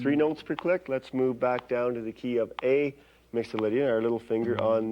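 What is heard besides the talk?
No distinct noise like a dog, phone or traffic.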